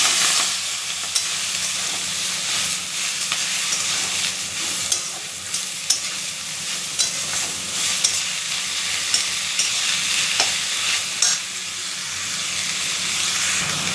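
Spinach frying in oil with mustard seeds and black cumin: a steady, loud hissing sizzle with occasional pops and stirring clatter, no talking.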